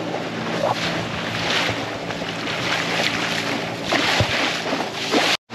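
Rough, churning sea at Sangam Point in Devbag, heard as a broad continuous roar of surf with gusting wind buffeting the microphone, steady and loud throughout with a brief dropout near the end.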